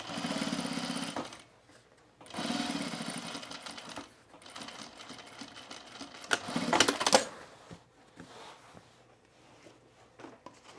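A sewing machine top stitching men's cargo shorts runs in two fast, buzzing bursts of about a second each, followed by quieter fabric handling, clicks and a louder rattling stretch before it settles.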